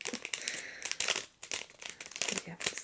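Scissors cut open the corner of a packet up close, giving short crinkling and snipping rustles of plastic in quick bursts.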